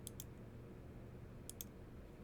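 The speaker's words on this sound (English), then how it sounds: "I'm double clicking you." Computer mouse being double-clicked twice during a database scripting session, each double click a pair of quick, light, close clicks over a low steady background hum.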